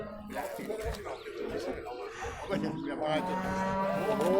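Cattle at a crowded livestock market in Tokmok give drawn-out moos, with one loud low call up close. People talk and bargain nearby throughout.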